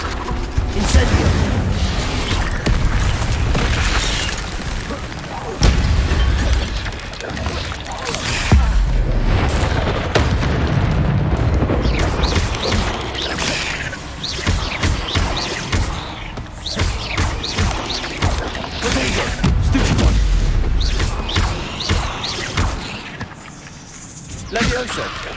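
Incendio fire spells in Hogwarts Legacy burst again and again through dense game action, with loud booming blasts and clattering mechanical effects running steadily throughout.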